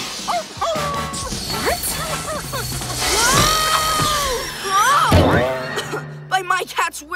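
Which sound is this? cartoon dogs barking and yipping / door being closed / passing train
cartoon dogs barking and yipping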